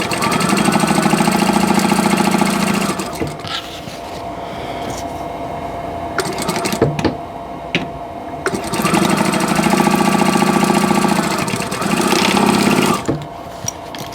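A sewing machine stitches fabric for a quilt block, running in two long steady whirring bursts with a quieter pause between them, loud and close.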